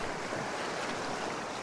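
Water washes over slippery sandy rocks along a shoreline during stormy weather, a steady hissing surf wash with some wind, soft and continuous with no voices.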